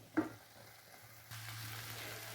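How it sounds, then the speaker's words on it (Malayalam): Clam meat being stirred into a hot masala in a pan: a soft knock of the spoon, then a quiet, steady sizzle that grows louder and holds to the end. "മസാലയിലേക്ക് ചേർത്ത കക്ക നന്നായി ഇളക്കി യോജിപ്പിക്കണം"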